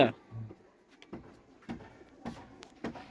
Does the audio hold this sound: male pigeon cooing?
yes